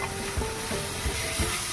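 Ground coriander and cumin being stirred as they fry in a pan for an onion-rich chicken curry; a steady low sizzle runs throughout, with a few soft scrapes of the spoon against the pan, close and alone.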